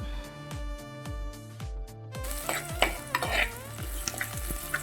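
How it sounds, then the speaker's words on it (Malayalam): Garlic, ginger, green chili, curry leaves and chopped shallots sautéing in hot oil for a fish gravy, with a steady close sizzle and repeated rhythmic scraping and stirring strokes against the pan. "വെളുത്തുള്ളി, ഇഞ്ചി, പച്ചമുളക്, കറിവേപ്പില, ചെറിയ ഉള്ളി അരിഞ്ഞത് ഇവയെല്ലാം ഇട്ട് നന്നായിട്ട് വഴറ്റുക."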